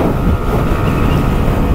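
Steady, loud wind roar buffeting the helmet of a rider on a 2024 Kymco Skytown 125 scooter with almost no windscreen, a continuous broadband rush at riding speed with no pauses.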